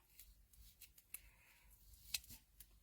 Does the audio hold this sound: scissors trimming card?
yes